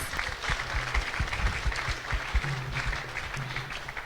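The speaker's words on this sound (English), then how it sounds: "Let's give him a round of applause." A round of applause from a congregation at a Sunday temple love feast: steady, moderately distant clapping spread across a hall, mixed with low murmuring voices and room noise.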